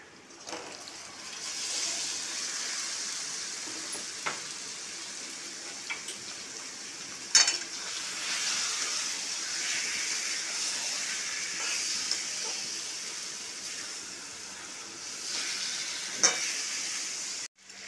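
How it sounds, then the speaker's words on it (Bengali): Marinated chicken with browned onions is sautéed in a pan with a steady hissing sizzle, broken by occasional spoon knocks and scrapes, close and without speech. "এটা আমি খুব ভালো করে এবার কষছি।"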